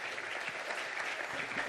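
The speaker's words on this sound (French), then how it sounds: "On peut l'applaudir et le remercier" A conference audience applauds, a dense even wash of clapping that holds steady and fairly soft for the whole short moment, with no voices over it.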